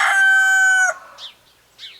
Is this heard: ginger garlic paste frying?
no